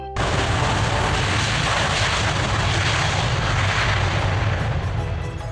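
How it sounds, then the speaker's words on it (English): A Boeing 777-9 twin-engine jetliner roars loudly and continuously from the start, a dense broadband engine rush that holds steady throughout without any voices. "The world's largest twin-engine jetliner, the Boeing 777-9 is a true giant at over 76 meters in length."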